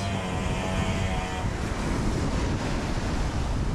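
Sea waves along the Amlan City boulevard shore in Negros Oriental, a steady broadband roar of surf with heavy wind noise on the microphone, continuous and loud.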